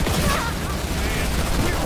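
Gunfire in the video game Halo Wars 2 with Grunt enemies attacking, a steady dense crackle of shots running throughout under game voices and music.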